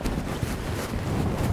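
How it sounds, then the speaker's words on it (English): Strong gusty wind buffets the microphone at Salvation Mountain, producing a steady, loud, low roar that swells slightly toward the end, with no voices. "Very windy up here, as you can imagine."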